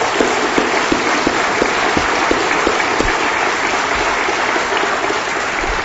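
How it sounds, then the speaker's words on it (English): Loud, sustained applause for teachers during the 2015 New Bedford State of the City Address, a thick continuous roar of clapping from a large hall audience with no talking. "they deserve a round of applause"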